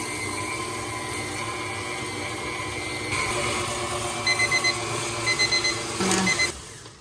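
A kitchen timer alarm beeps in quick repeated bursts over the steady hum of a running mixer beating tea cake batter.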